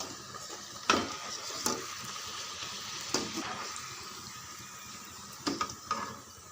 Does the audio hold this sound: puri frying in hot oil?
yes